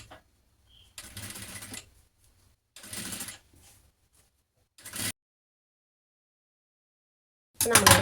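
A sewing machine stitches a pleated sleeve for a top. Several separate whirring runs of about a second each are broken by pauses, and a final burst starts at the end. The sound is close and no one talks.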